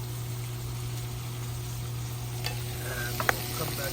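Onions cooking in a pan make a soft, steady frying hiss under a constant low hum, with a few brief scrapes and clicks from stirring near the end.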